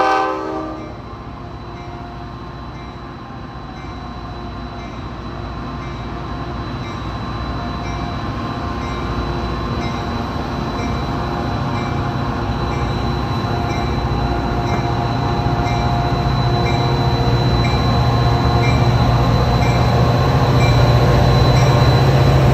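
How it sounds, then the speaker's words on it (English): A WeGo Music City Star commuter train departs, with a steady, loud rumble of the rail cars that swells gradually as it pulls away and wheel squeal rising toward the end. "We're going to see this train take off here"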